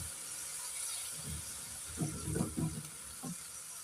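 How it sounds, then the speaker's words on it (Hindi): Water poured into a pan of cooking chicken with finely sliced vegetables, a soft splashing burst in the middle with a brief trickle near the end, close by, with no talk. "अभी मैं थोड़ा पानी डालूंगी इसके अंदर"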